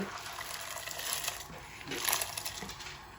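Water pouring into a pot of mixed lentils while cooking haleem, a splashing, gushing stream that swells and fades over a few seconds.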